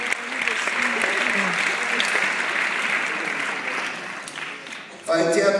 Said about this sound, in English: How about another round of applause for these people?